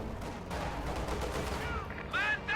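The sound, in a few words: gunfire in Company of Heroes 2 video game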